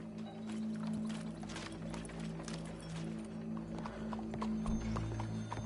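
Horse hooves clip-clop in Red Dead Redemption II, a steady, fairly close rhythmic trot over a low hum of game ambience.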